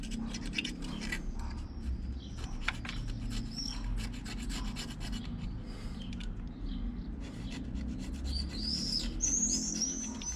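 A utility knife blade scrapes an old gasket off a removed Renault 1.9 dCi engine, giving continuous close rasping strokes; faint chirps sit in the background.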